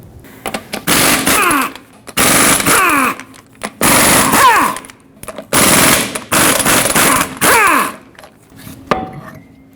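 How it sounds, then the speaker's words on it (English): Impact wrench with a 21mm socket spinning off the eight lug nuts on a Ford F-350 wheel, heard as loud, close, rattling bursts of about a second each, repeated six times with short pauses between. "use a 21mm socket and remove all 8 lug nuts that hold the wheel on"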